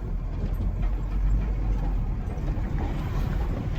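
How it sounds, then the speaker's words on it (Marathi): Several tractors running along a rural road, a steady close low engine rumble with broadband road noise that continues without a break. "माझे ट्रॅक्टर चालल्यात"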